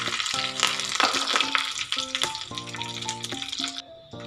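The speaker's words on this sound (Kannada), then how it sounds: "ಕರಿಬೇವನ್ನ ಸೇರಿಸ್ಕೊತೀನಿ." Curry leaves hit hot oil with popped mustard seeds and a dried Byadagi chilli while tempering for Mangalore cucumber sambar. A loud, steady crackling sizzle runs throughout, with background music playing.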